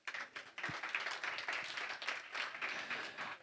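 An audience at a conference panel applauds steadily and fairly softly, a dense patter of many hands clapping that carries through the whole moment without pause.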